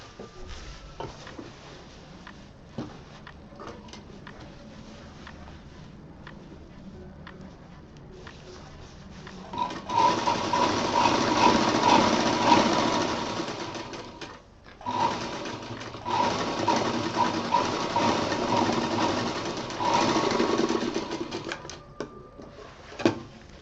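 A sewing machine stitches the back seam of a festival cushion cover: faint mechanical ticking at first, then two sustained runs of fast whirring stitches separated by a brief pause.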